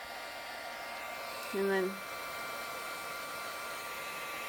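A heat tool blows hot air onto embossing powder in a short, loud whooshing burst in the middle, while a voice talks over a quiet background.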